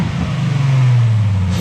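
A V6 Ford Mustang fitted with a throttle body spacer revs hard, a loud close engine note rising in pitch then holding at a high drone, heard alone.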